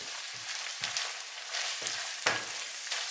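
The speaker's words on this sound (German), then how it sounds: "Die Zwiebeln muss man halt 2 Minuten anbraten." Onions sizzle and fry in a pan, a steady hiss punctuated by a few brief clatters and stirring scrapes, close and fairly quiet with no voices.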